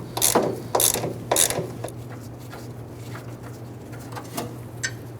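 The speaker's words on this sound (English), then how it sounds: "we'll go ahead and loosen and remove these two last fender bolts" A ratchet loosens the fender bolts on a 1997–2006 Jeep Wrangler with three loud, close bursts of rapid clicking, then quieter, scattered clicks over a steady low hum.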